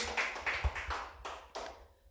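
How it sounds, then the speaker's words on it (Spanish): A church congregation at a Spanish-language sermon on fasting breaks into a brief, faint burst of applause, with several uneven clusters of claps heard from a distance that fade out within a couple of seconds. "Dele fuerte aplauso al que vive, gloria a Dios."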